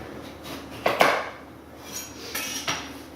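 A kitchen knife cuts through the bottom half of a butternut squash on a cutting board, giving a few sharp knocks as the blade hits the board, with quieter scraping between them.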